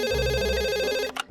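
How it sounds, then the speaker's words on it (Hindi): A cartoon telephone rings in a steady electronic trill, loud and close, then cuts off abruptly near the end with a brief clatter. "नहीं, फिर फोन आ गया। मुझे पता है सर का ही फोन होगा।"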